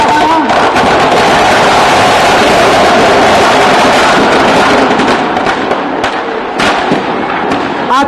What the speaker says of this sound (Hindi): आतिशबाजी हो रही है, विजयादशमी महोत्सव हम लोग मना रहे हैं